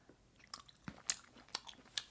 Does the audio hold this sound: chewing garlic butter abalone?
yes